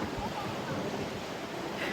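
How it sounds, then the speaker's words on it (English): Strong wind buffets the air with a constant roar at the beach of Disney's Aulani resort, blending with distant surf at the shore, with no clear voices. "but it's really windy"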